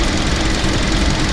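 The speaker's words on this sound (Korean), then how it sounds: "시동 걸었는데요" A Hyundai LF Sonata LPI engine idles after starting, a loud, steady close-up rumble with a dense low knocking texture and no voices.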